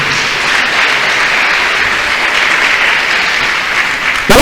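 A church congregation claps steadily and loudly in praise during a worship service, a dense, even wash of hands that holds for several seconds before a brief sharper burst at the end.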